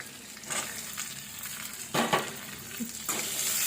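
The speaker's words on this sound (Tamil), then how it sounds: "பூண்டு, இஞ்சி, தேங்காய், சின்ன வெங்காயம்" Garlic, ginger, coconut, shallots and curry leaves sauté in a pan for chicken kola urundai, a close, steady sizzle broken by a few scraping stirs of the spoon against the pan.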